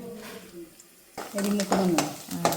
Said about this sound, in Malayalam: വറവാക്കാൻ വെളിച്ചെണ്ണയിൽ ആദ്യം അരി വറുത്തെടുക്കണം